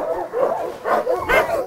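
Sled dogs at the Denali Kennel, a yard of about 32 dogs readying teams for a patrol, bark and yip in a quick volley of several close, loud barks with short whimpering tones between them.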